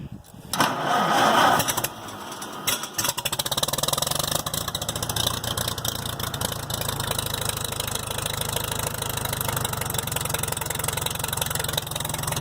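A small engine converted to key start cranks, catches and fires up, then settles into a steady, loud, slightly rough running drone that continues to the end.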